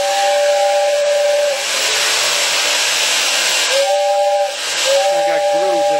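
An Overland Express toy tin train gives a steady high whistle over a loud continuous hiss and rattle, with the whistle breaking off and returning in short bursts.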